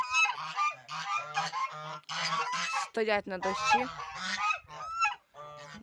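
Geese honk repeatedly in loud, harsh bursts close by, while a person speaks briefly among the calls.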